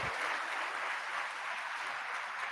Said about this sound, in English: Can we get a round of applause for all of our students who grade no grade less than 90?